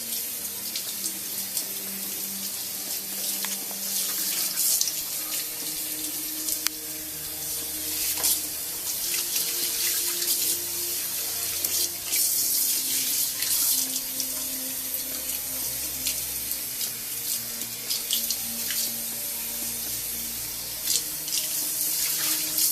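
Cold tap water runs steadily into a sink, with splashing and shifting gurgles as a human hair wig is rinsed under the stream, no voices.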